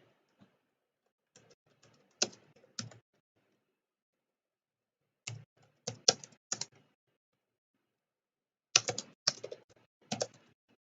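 Bursts of clicky computer-keyboard typing in short clustered flurries separated by pauses of silence, close and fairly quiet, with no voices.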